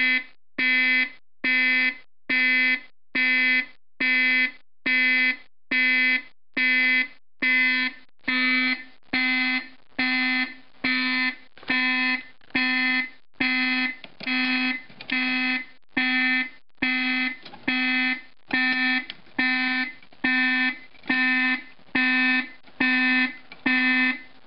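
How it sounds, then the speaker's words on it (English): An Alertek 5001-DC-POC fire alarm panel under test sounds a loud, steady pulsing tone, about one evenly spaced harsh electronic beep per second repeating for the whole stretch, heard alone. "Reset the pull and the alarm is still on because there's a latching circuit."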